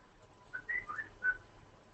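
A computer sound effect mimicking a bird whistle chirps in a few short, faint warbling notes at irregular intervals, with quiet background in between and no voices.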